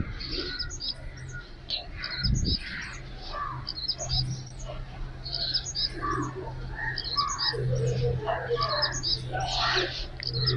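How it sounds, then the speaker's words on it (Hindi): Small birds chirp and tweet in rapid, overlapping bursts, bright and close, continuing steadily over a low hum with a brief knock partway through. "चिड़िया की आवाज़ चू चू चू ऐसी आवाज़ आ रही थी ना"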